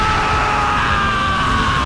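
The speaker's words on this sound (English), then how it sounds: "The way Endeavor yells out" Endeavor, the flame hero of My Hero Academia, lets out a loud, sustained yell that holds steady for nearly two seconds over fiery battle noise before cutting off abruptly.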